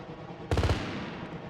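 A short, loud burst of rapid helicopter cannon fire in Arma 3, several quick rounds in a tight cluster, followed by fading echo and background battle noise; no talk.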